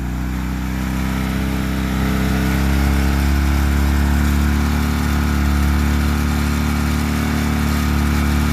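A Yamaha XS650 motorcycle engine runs on choke, a loud, steady, rumbling idle that swells slightly partway through, close by with no speech.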